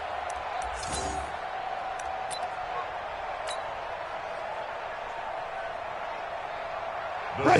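A stadium crowd roars steadily in an American football video game before a two-point try, a dense, even wash of noise with faint ticks, swelling slightly only at the very end.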